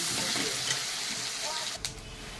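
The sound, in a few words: chopped ginger frying in oil tempering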